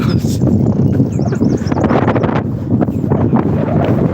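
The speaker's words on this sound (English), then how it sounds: "wind certainly picking up. It's not a good idea when you're walking straight through a field" Strong gusty wind buffets a microphone outdoors while someone walks through an open field, a loud continuous roar with rustling and flutter.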